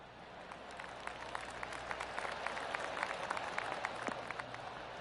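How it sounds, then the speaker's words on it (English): Scattered golf claps from a gallery of spectators around the course in the video game 2K PGA, sparse individual claps over a steady ambient crowd bed, moderately loud and continuous without speech. "I can hear the golf claps around the course."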